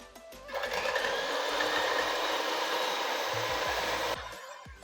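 An electric mixer grinder whirs loudly for about four seconds, blending a tender coconut ice cream mixture, then cuts off with a few soft clatters.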